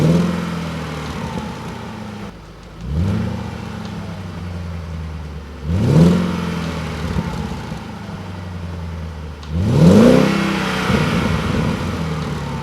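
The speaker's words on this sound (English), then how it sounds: "It's a nice and smooth acceleration." Audi RS6 C5 twin-turbo V8 accelerating through several gears, with three clear rising engine sweeps broken by short shift pauses, each pull swelling louder and deeper, heard close over a steady road rumble.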